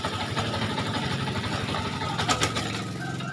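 A Yamaha MX King motorcycle engine idles steadily with a continuous low rumble and pulsing chug, close and fairly loud, with a few brief sharper rattles partway through.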